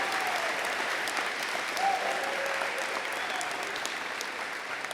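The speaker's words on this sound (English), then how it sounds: "Big round of applause for Ambrosia." Steady applause from the crowd at a high school college signing ceremony for an athlete, a moderately loud, continuous patter of many hands that holds evenly throughout with no talk over it.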